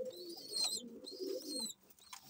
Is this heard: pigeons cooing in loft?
yes